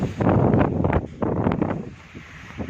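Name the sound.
strong wind blowing into phone microphone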